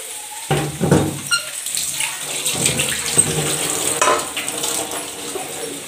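Tap water runs and splashes while something is washed during home cooking, a steady close wash of sound with occasional clinks.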